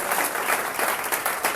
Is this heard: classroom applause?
yes